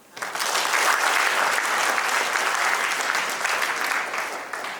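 Sustained, loud applause from a crowd at a World Kiswahili Day celebration, greeting a government minister; dense clapping holds steady for several seconds before tapering slightly.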